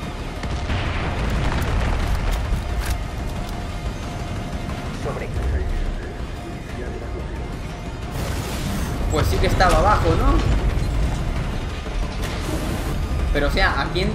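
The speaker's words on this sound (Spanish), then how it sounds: "Bueno, más explosiones." Booming blasts and rumbling crashes from Far Cry 5, swelling louder midway, with speech breaking in over the noise.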